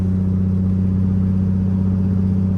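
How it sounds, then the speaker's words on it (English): A Z car out on its first test drive, a loud, steady low engine drone with a smooth humming rumble while cruising, no voices. "First test drive on the Z"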